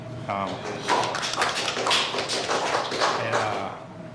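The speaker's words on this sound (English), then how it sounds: "So Wendy deserves a round of applause because she worked really hard on the budget this year" An audience at a city council workshop claps for Wendy in a room, a brisk patter of hands that runs for several seconds while people talk over it.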